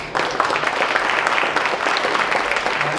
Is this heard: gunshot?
no